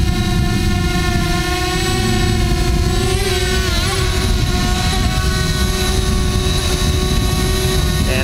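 A DJI Spark drone's motors whine steadily and loudly, with the pitch of the whir shifting and dipping as the throttle is pulled back, continuous with no talking.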